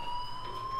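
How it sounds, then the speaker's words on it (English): A steady electronic fire alarm in the Life is Strange video game rings as a continuous tonal beeping, fairly faint and unbroken, with no talk. "Hey, do you hear that fire alarm?"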